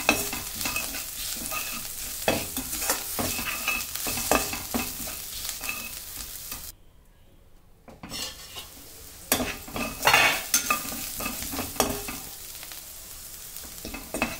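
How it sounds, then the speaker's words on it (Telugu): Spiced boiled peas fry and are stirred in a pan, producing continuous sizzling with repeated spoon scrapes and clatter and a brief quiet pause midway, with no speech. "మంచిగా మిక్స్ చేసుకోండి"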